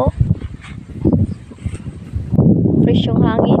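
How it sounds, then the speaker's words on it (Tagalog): Steady wind buffets the microphone at a cemetery, a broad rushing roar that swells and gusts throughout, louder in the second half with some faint background sounds. "Mahangin dito,"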